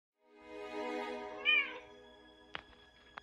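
A cat gives one drawn-out, rising-and-falling meow, followed by a couple of faint clicks and light handling noises.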